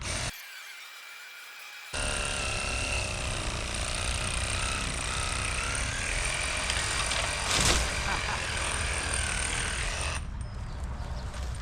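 A steady, loud buzzing of a Craftsman reciprocating saw with pruning blades cutting the base of a small tree stump, after a brief quieter start, with a sharp crack partway through before the noise drops near the end.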